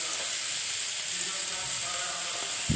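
Cauliflower greens cooking in a pan, a loud steady hiss of sizzling and steam, close up, with a brief clatter at the end and no voices.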